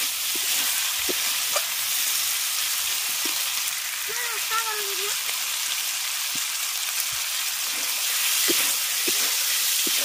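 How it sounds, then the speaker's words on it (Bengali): Fried potato and papaya pieces sautéing in a pan, a steady close sizzle and hiss of frying with occasional soft stirring scrapes and clicks, no talking. "এর মধ্যে সব কিছু ভালো করে কষিয়ে নেব।"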